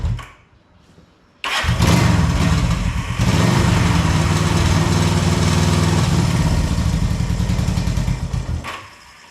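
A 1974 Honda CB360 motorcycle engine with the choke on, cranking briefly and then catching into a loud, rough, steady run close by, sputtering and fading out near the end.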